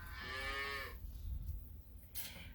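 Cattle mooing on a farm in summer heat, a long loud low call that fades out, followed by quieter rustling and distant background noise, with no talking.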